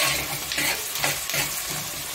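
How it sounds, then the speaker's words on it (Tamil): Onions frying in oil in a hot, thick-bottomed pan give a steady, dense sizzle with light stirring scrapes, close and continuous throughout. "வெங்காயம் கொஞ்சம் நல்லா எண்ணெயில் வந்து வதக்கிக்கோங்க."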